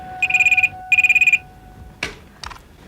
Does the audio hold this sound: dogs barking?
no